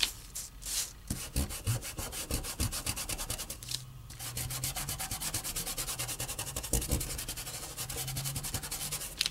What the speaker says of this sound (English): always, always have to burnish this glitter